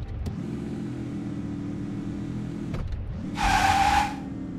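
Car engine droning steadily in the video game Invasion 2037, dipping briefly before a short burst of tire screech as the vehicle drifts, loud and close with no talking.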